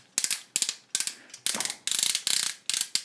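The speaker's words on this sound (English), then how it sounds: "Fantastic ratchets there" Plastic arm joints of a Transformers Premium Series APS-01 Striker Optimus Prime figure ratchet in quick bursts of sharp, crisp clicks, roughly seven close clustered runs over three seconds with short pauses between them.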